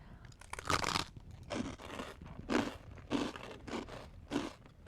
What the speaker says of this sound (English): We're gonna be crunching in our mics.